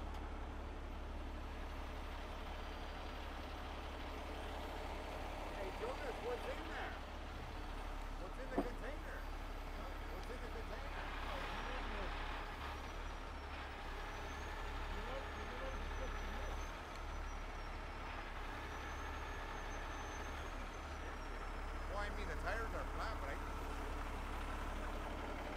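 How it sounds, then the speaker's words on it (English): A tractor truck engine runs at a steady low rumble while pulling out a container after a rollover and spill at the Queen Mary, with faint voices and distant background activity over the constant drone. "while Jonas pulls out with the tractor"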